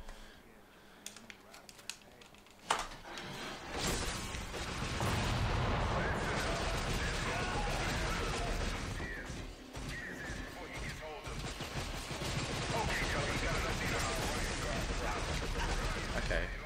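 Heavy gunfire and crashing blasts fill the action of The Chronicles of Riddick: Escape from Butcher Bay, a loud, dense barrage following a few sharp shots, with a voice speaking over it.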